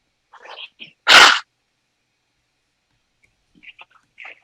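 One sharp, loud sneeze bursts out close to the microphone in a quiet room, with faint soft rustles and small clicks before and after.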